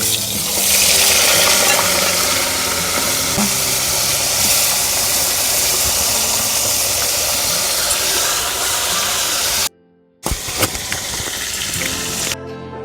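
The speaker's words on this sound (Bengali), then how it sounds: "সর্ষে তেল দিলাম তেলটা গরম হয়ে গেছে এবার মাছগুলো আমি ভেজে নিচ্ছি" Loud, steady sizzling of fish frying in hot mustard oil in a kadai, close up, broken briefly by a couple of short gaps near the end.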